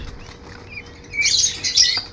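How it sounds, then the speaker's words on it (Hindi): Pigeons flap their wings as they fly in to feed, a quiet start giving way to a sudden flurry of close wingbeats with a few faint chirps. "अब मैं इन कबूतरों को ना अंदर बुला देता हूँ, तो ये अंदर आके ये वाला दाना खाते हैं"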